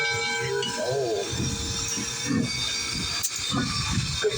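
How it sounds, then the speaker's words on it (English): Steady hiss and rumble from the 1904 Alco-built consolidation type steam locomotive 630, with two pilot wheels and eight driving wheels, idling nearby, with faint low mechanical knocks throughout. "630 is a consolidation type locomotive"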